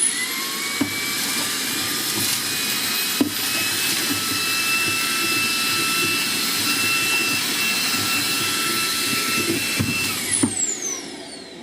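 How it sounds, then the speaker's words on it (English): A Makita 40v CL001G cordless stick vacuum runs on its highest mode, sucking up dust with a steady loud high whine and rushing airflow for about ten seconds, then spins down, with a few small clicks and knocks and no talking. "We're going to suck up some dust now in mode 4."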